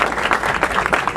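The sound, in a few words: applause at press conference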